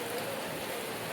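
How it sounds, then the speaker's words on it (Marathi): Heavy monsoon rain falls at the Matheran hill station, a dense, steady patter that fills the moment without pause and carries no voices. "आज भरपूर असा पाऊस चालू आहे, भरपूर."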